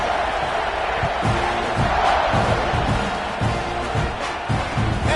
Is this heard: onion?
no